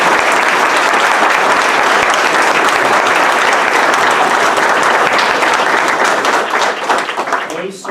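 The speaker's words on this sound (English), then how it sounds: "yes, your round of applause." A crowd applauding at a village board of trustees meeting, loud sustained clapping throughout that thins out near the end.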